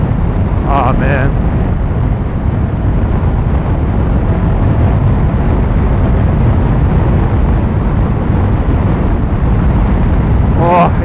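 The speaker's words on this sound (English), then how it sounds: "it is absolutely windy" Strong wind roars steadily across the microphone, a constant heavy rush with brief faint voices near the start and end.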